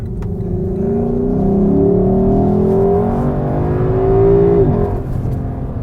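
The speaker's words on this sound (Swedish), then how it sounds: "Det här insugsljudet, det spelar de in och skjuter in i kupén här också" A Lexus LC 500 Convertible accelerates hard, its engine and intake rising in a loud, close, smooth rev that climbs through a gear before a brief dip and renewed pull, with no talking.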